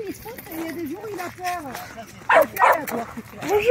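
An Australian shepherd dog barking and yipping outdoors, several sharp barks near the end over a background of whining and chatter, close and loud.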